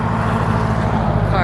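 Steady traffic rumble from cars on a nearby street in a rural setting, a continuous broad wash of road noise with no distinct single pass.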